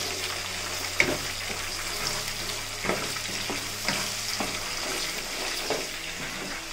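Onions, chana dal, urad dal, cumin, mustard seeds and peanuts fry in hot oil, giving a steady, close sizzle with occasional sharp pops and stirring clinks.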